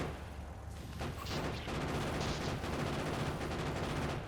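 Gunfire from automated turrets and weapons in the game Factorio, a steady stream of fast, crackling shots that runs throughout at a modest, somewhat distant level.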